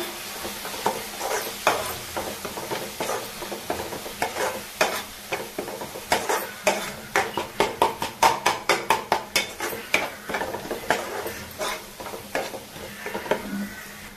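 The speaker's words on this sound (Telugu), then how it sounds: "కారం పచ్చి వాసన పోయేదాకా ఫ్రై చేసుకోవాలి" Chili powder frying in a pan for prawn curry, stirred with a spoon in steady scraping strokes that quicken into a rapid, regular run in the middle over a constant low sizzle, close and clear with no talk.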